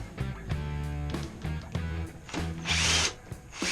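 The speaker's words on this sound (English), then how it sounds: "now we're going to take our drill or our socket wrench with our 8mm socket" A power drill with an 8mm socket whirs in short repeated bursts removing bolts from a Yamaha Raptor 660 handlebar clutch lever, each spin starting and stopping sharply, with a louder higher-pitched whine near the end.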